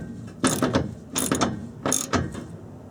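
A hand ratchet tightens a bolt through the subfloor of a vintage Shasta camper trailer, making three separate bursts of rapid clicking, close and fairly loud, with no voices.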